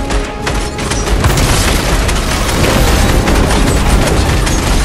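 A massive explosion in the video game Fortnite, with crystals detonating at the Zero Point, roars as a dense, sustained booming blast that rumbles continuously and loudly for several seconds.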